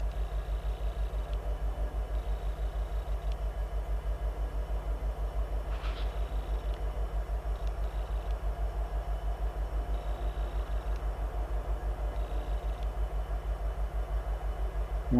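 A southbound CN freight train at West Ladysmith: a steady low rumble with a rhythmic clatter of wheels runs on and on, rolling past at a constant pace.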